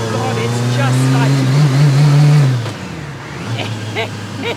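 A Lancia Delta S4 Group B rally car, turbocharged and supercharged and street-legal, revs hard and accelerates, its loud, close engine tone rising and sweeping before dropping off, then building again under excited talk.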